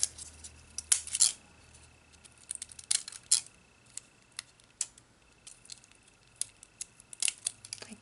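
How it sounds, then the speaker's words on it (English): Scissors snip through paper for an accordion-fold flower rosette, giving a scattering of sharp, close crisp cuts in quick irregular bursts over a faint background hum, with no voices. "So I'm just going to give it a cut right here."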